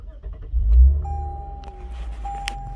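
A Lexus IS F Sport engine cranks and catches in sport mode, settling quickly into a quiet, smooth idle, heard from inside the car with a short electronic chime.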